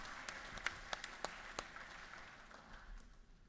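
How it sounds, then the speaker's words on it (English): Lawmakers in the Georgia House chamber give a short round of applause, a handful of distinct claps over a soft background wash that fades out after a few seconds. "Let's give them a round of applause."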